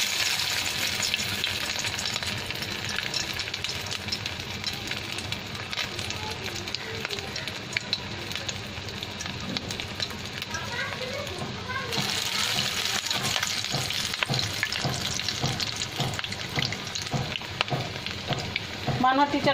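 Kebabs frying one by one in a pan in a home kitchen, a dense, steady hiss and crackle of hot oil running throughout, close and fairly loud, growing busier in the second half.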